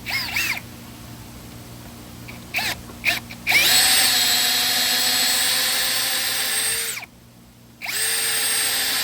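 A power drill with a quarter-inch bit, used while building a butterfly net extension pole, gives a few short clicks and then a loud, sustained whining run. It pauses briefly and starts up again. No one speaks.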